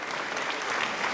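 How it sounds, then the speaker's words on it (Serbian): A live audience breaks into loud, dense applause at an evening music show, a steady wash of many hands clapping together close by, with no voices standing out. "jedan aplauz da ih okuražimo"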